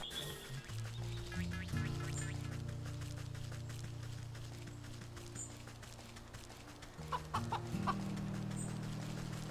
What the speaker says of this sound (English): You're not a chicken, you're a pheasant! Stop making chicken noises